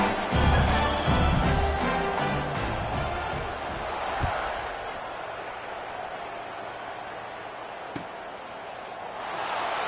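A football stadium crowd roars loudly at first, then the cheering settles into a broad, sustained wash of noise with a few sharp bangs standing out, without any clear talk over it.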